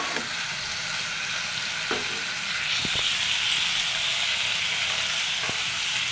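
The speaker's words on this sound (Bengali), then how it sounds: "না ঢেকে লাউটা ভালো মতো কষায় নেব" Chopped bottle gourd sautéing uncovered in a pan for a Bengali rohu fish curry, giving a steady, loud sizzle with a few sharp clinks of a stirring utensil against the pan.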